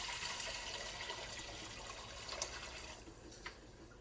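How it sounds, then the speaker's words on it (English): Chicken mole broth pours back into a cooking pot in a steady, close liquid stream with a rushing splash that eases slightly toward the end; nobody speaks. "the next thing we're going to do is we're going to return our broth back to our pot"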